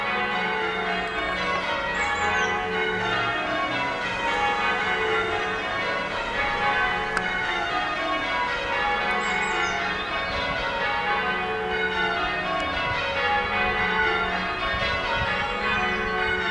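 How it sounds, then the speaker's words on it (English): The eight bells of St Marks church in Longwood ring together in a steady, continuous peal, bright overlapping tones heard from nearby outdoors with no talking. "It's a good job I've come today and heard all 8 bells going."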